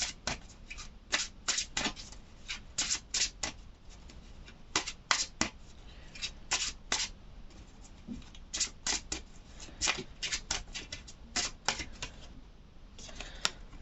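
A tarot deck shuffled by hand during a card reading: quick, repeated riffling bursts of card flicks across the whole stretch, close and fairly quiet, with brief pauses between shuffles and no talking.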